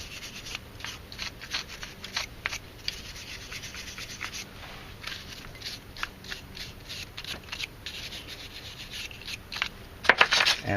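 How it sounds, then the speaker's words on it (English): Wire brush scrubbing corrosion and crud off a rear brake caliper on a 2004 Hyundai Santa Fe, steady close scratchy rubbing strokes, moderately quiet, ending in a few sharper scrapes. "I'm going to take a wire brush and clean off all this crud that's in here."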